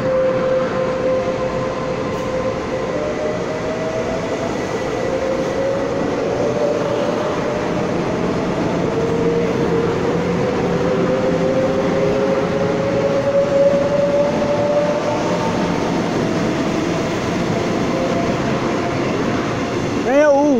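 Taiwan Railways EMU568 and EMU553 eight-car coupled commuter train at Xinzuoying station, a steady electric motor whine rising in pitch under a continuous rolling rumble, with quiet speech.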